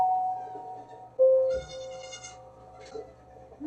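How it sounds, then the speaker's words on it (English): A goat bleats in a TV show, a bright wavering cry rising over a quiet room tone, then fading with a short fainter call after it. "Why is there a goat here?"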